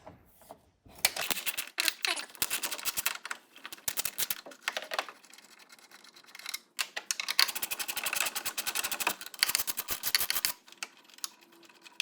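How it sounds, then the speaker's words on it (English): A 3/8 ratchet with a 10mm socket turns bolts on the tailgate of a Ford F-150 while fitting an EZ Down assist strut. It makes rapid, close clicking in bursts, with brief pauses between runs of strokes. "Simply a 10mm on a 3/8 ratchet."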